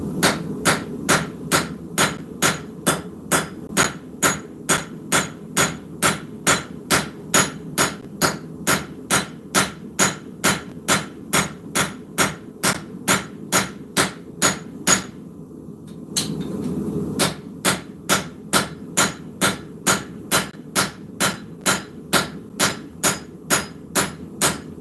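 Hammer blows on a hot steel heel being forged, a fast steady rhythm of sharp ringing strikes close by, with a brief pause midway before the pounding resumes.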